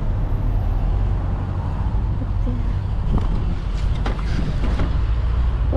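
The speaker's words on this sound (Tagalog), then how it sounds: "Lakas talaga ng hangin." Strong wind roars steadily outdoors, a dense continuous rush buffeting the microphone with a few brief gusty bursts, and no one speaks over it.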